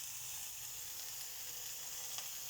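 Food cooking without fat on a glass-ceramic hob, a steady soft sizzle running throughout with a faint clink near the end, no voices.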